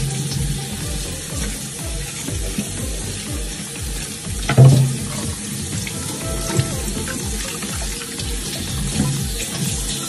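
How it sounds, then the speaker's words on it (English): A used cutting board is scrubbed under a running kitchen tap, with steady splashing water and rhythmic rubbing strokes close by, broken by one brief louder knock near the middle. "I have a cutting board that I just used. So I'm gonna go ahead and scrub it."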